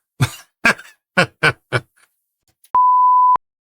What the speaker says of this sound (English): That had a beep.